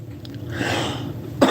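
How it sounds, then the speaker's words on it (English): A single man's cough bursts out sharply near the end, close and loud, after a short stretch of quieter breathy sound. "I'm gonna cough here in a minute"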